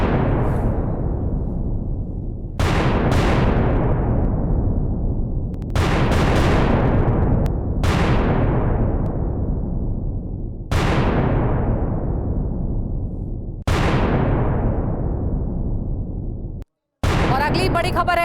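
Israeli air strikes hit Hamas positions, with about six loud, separate blasts, each a sudden burst that fades out over a couple of seconds, spaced at irregular intervals.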